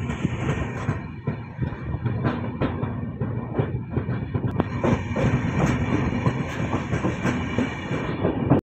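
A passenger train travels toward Kankavli station, with a constant rumbling roll and rhythmic clickety-clack of wheels over rail joints, heard from inside the carriage with a faint high whine on top.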